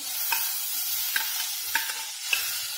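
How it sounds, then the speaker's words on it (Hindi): Onion is sautéed on a pan for a tawa pizza topping, giving a soft continuous sizzle broken by four evenly spaced stirring scrapes. "प्याज डालेंगे इसे थोड़ा सा भून के"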